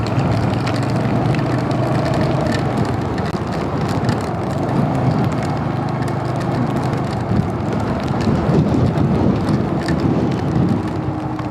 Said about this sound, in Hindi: यहाँ पे बारिश हो रही थी।